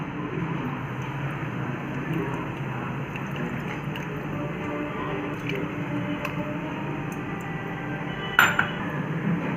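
Cooked brinjal being mashed and mixed with tamarind water for brinjal gothsu. Steady soft squishing and wet stirring continue throughout, with a sharp clink of utensil on the vessel near the end.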